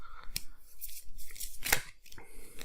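Board game player cards being shuffled by hand, a series of quick papery riffles and snaps in short bursts, close and fairly quiet with no talk.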